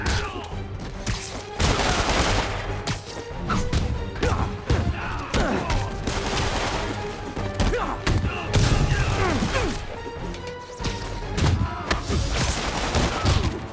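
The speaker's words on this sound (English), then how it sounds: "we report of gunfire coming from multiple vehicles" Bursts of rapid gunfire from multiple vehicles mixed with thuds, crashes and engine noise, loud and chaotic throughout, a hectic shootout in the video game Marvel's Spider-Man.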